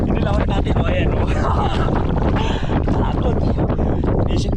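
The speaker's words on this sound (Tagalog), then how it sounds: "Lakas na ng hangin, master, o." Strong wind roars across an anglers' boat at sea, a loud, continuous buffeting rush that hits the microphone for the whole stretch while people talk over it.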